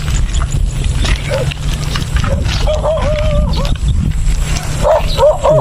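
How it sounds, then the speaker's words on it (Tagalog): Dogs barking and growling nearby over a loud, constant rumbling background from riding a bike on a road, with a voice briefly heard in the mix. "Pagtitripan pa yata tayo ng aso."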